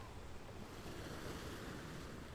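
Ocean waves wash onto a sandy beach in a steady, dense roar with a windy hiss, loud and continuous with no voices.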